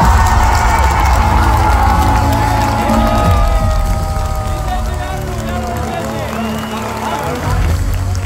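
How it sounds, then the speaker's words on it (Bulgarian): A TV show studio audience gives strong applause and cheering, a loud, sustained roar of clapping and whoops lasting the full eight seconds. Tonal music or sound effects sweep over the noise, and it stays at a steady level throughout. "Силни аплодисменти"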